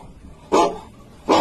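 Dogs bark in Call of Duty: World at War, two loud, sharp barks about a second apart with quiet between them.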